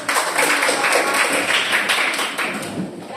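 Classroom applause as pupils sit down during a lesson, a busy patter of children's clapping mixed with some voices in the room.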